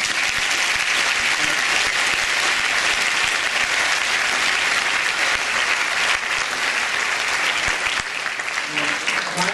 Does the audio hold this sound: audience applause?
yes